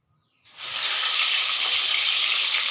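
Rohu fish pieces are dropped into hot mustard oil, and a loud, steady sizzle bursts up suddenly and keeps hissing strongly and evenly, close up, with no voices.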